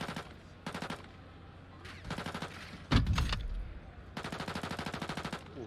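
Gunfire in Call of Duty: Modern Warfare II multiplayer, including a sniper rifle: several rapid automatic bursts at close range, broken by one heavy, booming shot midway, with no talking.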